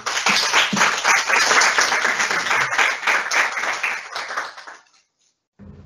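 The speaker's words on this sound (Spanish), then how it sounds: "Un aplauso para ella, por favor." Audience at a family medicine conference at an ISSSTE clinic applauds a physical medicine and rehabilitation specialist, a dense burst of many hands that thins out over about four seconds and stops, with a brief low sound at the very end.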